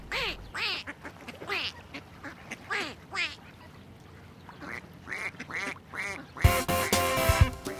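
A cartoon duck in a children's alphabet animation quacks in a quick run of nasal calls, pausing and starting again, then cheerful music takes over near the end.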